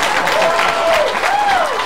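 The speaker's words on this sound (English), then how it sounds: "Would you please welcome, with a big round of applause, everybody, Alyssa Balzano!" A game show studio audience applauds to welcome a contestant, a steady wash of clapping from many hands with a brief, faint whistle-like tone above it.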